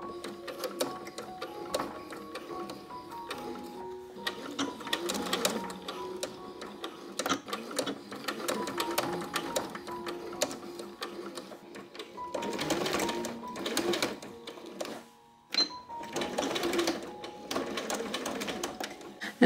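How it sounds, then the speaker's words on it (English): A sewing machine stitches a corset in steady bursts of rapid mechanical whirring and ticking, with brief pauses between seams, up close and fairly loud throughout. "I'm going to do this on the machine shortly,"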